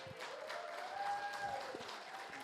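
A church congregation gives scattered, light applause during a service, steady soft clapping heard from a distance, with a faint tone sustained beneath it.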